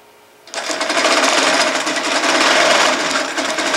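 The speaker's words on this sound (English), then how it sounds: "how fast the Quilt Magician is set to run at its fastest speed during this process" A Quilt Magician computerized quilting machine, run from an Android controller, starts stitching after a brief quiet moment and keeps up a loud, steady mechanical whir with rapid rattling to the end.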